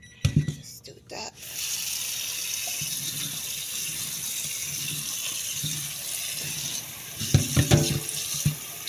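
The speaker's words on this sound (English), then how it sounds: "Then add some water." Water is poured into a pot of spiced beans during cooking, a steady running, pouring wash lasting several seconds between brief louder knocks and clatter at the start and end.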